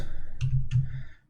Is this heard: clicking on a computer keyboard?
yes